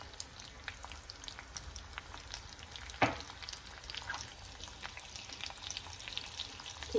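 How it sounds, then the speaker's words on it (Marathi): Garlic sautéing in melted butter or oil in a pan, with a soft, quiet sizzle and faint crackling pops, plus one sharp clink partway through. "त्यात आपण टाकणार आहोत लसूण. छानसे परतून घ्यायचं."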